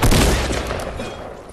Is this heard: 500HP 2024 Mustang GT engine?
no